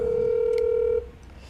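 Telephone dialing, a single loud steady dial tone lasting about a second with a brief keypad beep, then a quieter line hiss.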